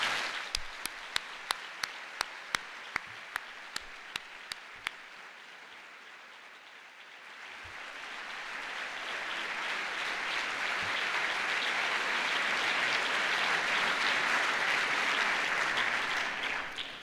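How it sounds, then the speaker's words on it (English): Applause at a university graduation ceremony: a few isolated claps first, then a broad round of clapping swells from the audience, building to a dense, sustained roar before tailing off. "Please give them a big round of applause."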